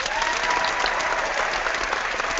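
An online group claps together to welcome a guest host joining a live hangout, giving a steady, dense round of applause that runs the whole clip at even strength.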